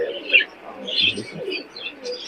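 Pigeons cooing and chirping at the Big Bazar pigeon market in Khulna, several birds close by in a continuous soft murmur, with faint voices in the background.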